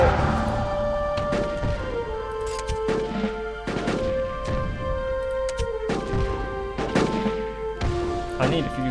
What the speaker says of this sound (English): I'll just send my cannons forward a bit.